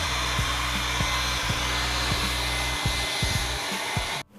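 A hand-held hair dryer blows steadily on the back of a sheepskin hide to dry its wool, giving a loud, close, continuous whooshing whine that cuts off abruptly just before the end, with no talking.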